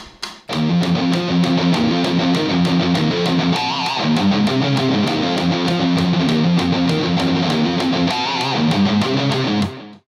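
A dense, driving rock riff in 15/8 with a steady pulse of drum hits and a gritty, distorted electric guitar tone, loud and continuous, with no voices.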